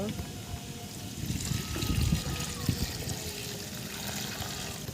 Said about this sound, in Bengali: সবজি কাটা হয়ে গেছে এবার আমি ধুয়ে নেব